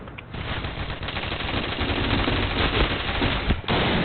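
Rapid automatic gunfire from a gun in a video game, a dense, continuous rattle of shots, loud and close, briefly dipping near the end before resuming.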